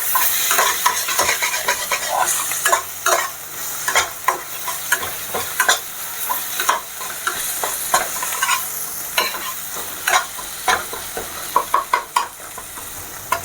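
Spices and grated ginger fry in a pan for chole, with a steady sizzle and repeated scraping of a spoon as the mixture is stirred, close and alone without talking.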